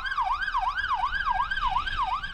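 A United Hatzalah ambucycle speeds through the streets of Jerusalem with its siren on: a loud, close wail that sweeps up and down in a steady cycle, about three rises every second, over faint traffic noise.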